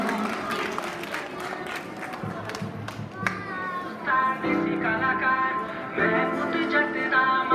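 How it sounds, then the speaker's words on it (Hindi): An audience at a school Grandparents' Day celebration applauds to welcome prize winners, with scattered claps and crowd noise that give way to music and a voice. "सभी एक बार जोरदार तालियों से स्वागत करें हमारे विजेताओं का।"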